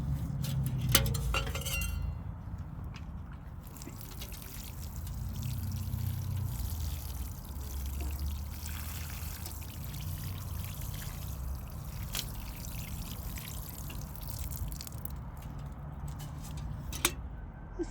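Water pours from a watering can onto dry garden soil around a dwarf lemon tree, a soft steady trickle with a couple of light clinks near the start and end, fairly faint and close.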